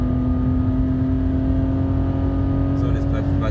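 A car engine hums at a steady high pitch while driving the Nürburgring Nordschleife, close and constant, with a brief clatter of shifting or braking at the very end.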